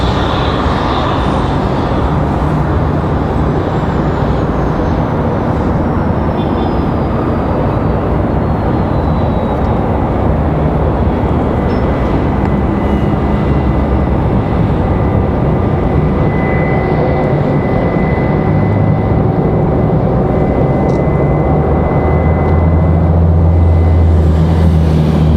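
An Airbus A320 taxis at Raleigh-Durham International Airport, giving off a steady, loud jet engine roar that holds constant with a slight rise near the end.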